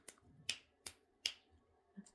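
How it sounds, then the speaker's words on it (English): Finger snaps made near a playful cat and other pets indoors, four sharp clicks spaced irregularly over about two seconds, fairly faint against a quiet room. "I don't know if snapping my fingers does anything"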